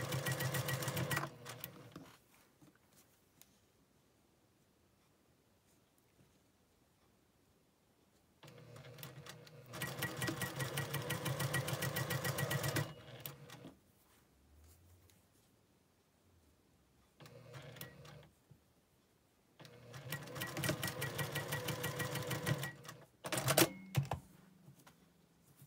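A sewing machine runs in three long bursts while stitching quilt patches for a nine-patch Irish chain block, its fast needle rhythm steady and close, separated by quiet pauses.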